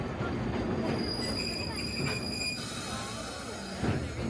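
Sagano sightseeing trolley train running on the disused old Sanin Main Line track through autumn Kyoto hills, a steady loud rumble of wheels on rails with sustained high wheel squeal and a heavier clunk near the end.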